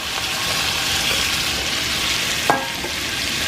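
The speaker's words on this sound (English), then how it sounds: "So we're going to put them all into this beautiful butter" Russet potatoes drop into hot butter in a pan and fry with a steady, close sizzle throughout, broken by one brief clink partway through.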